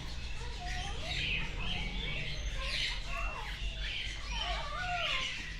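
Diamond Firetail finches calling, a steady run of short chirps and squeaky tweets, fairly close, over a low background hum with no clear talk.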